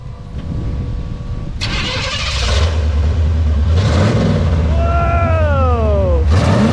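Barn-find Chevy Nova engine cranks and catches, settling into a loud, steady rumbling idle up close, with brief bursts of noise and whistling tones layered over the running motor.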